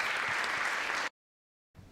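A burst of audience applause for two student speakers at a university symposium on internationalization, dense clapping for about a second that cuts off abruptly to silence, then resumes faintly.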